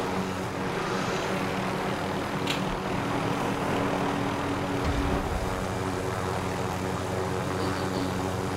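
A helicopter flies in Call of Duty Warzone, its engine a steady, loud, droning rumble that holds evenly throughout, with a brief louder swell partway through.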